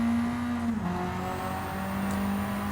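Race car in a racing video game accelerating in second gear across a bridge, a steady engine drone rising slightly in pitch, loud and close with no voices.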